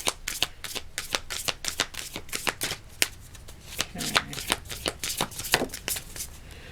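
Tarot cards being shuffled by hand during a card reading, a rapid run of crisp riffling snaps and slides repeating steadily throughout, close and fairly quiet, with no talking.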